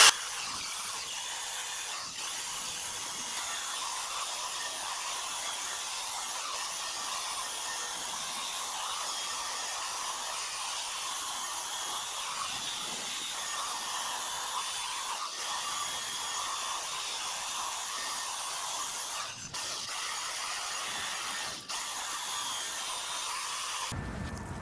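Steady, continuous abrasive hiss of a nylon disc on a rotary tool sanding rust, scale and old paint off a Wheel Horse tractor part during restoration, close and loud throughout with a few brief dips, no talk.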